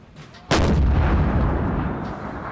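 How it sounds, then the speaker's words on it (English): Napoleon Total War battle at Quatre Bras: a single heavy artillery cannon blast booms out sharply, then rolls into a long fading rumble, loud and alone. "Dang, they're firing artillery already at this artillery piece."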